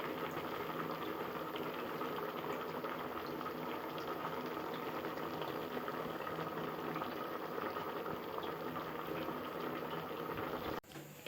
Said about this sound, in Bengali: আর এখানে লাউ দিয়ে ঘন্ট রান্না করা হচ্ছে